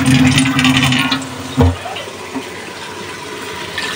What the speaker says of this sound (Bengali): মশলাটা ভালোভাবে কষাই নিয়ে আর একটু পানি লাগবে।